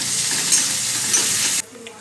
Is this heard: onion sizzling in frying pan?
yes